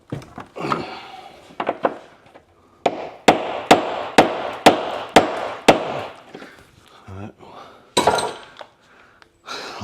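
A hammer strikes Subaru rear suspension parts during a rebuild, a run of sharp metallic blows in a steady rhythm, loud and close, with a few scattered clanks before and after.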